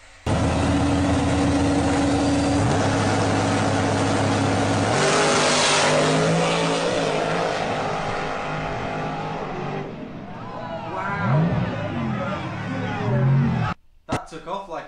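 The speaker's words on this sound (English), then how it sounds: "C2 Corvette takes off and crashes," A C2 Corvette engine revs hard and accelerates away, loud and close, with the pitch climbing through gear changes, then a sudden cutoff near the end as the car crashes and its engine blows up.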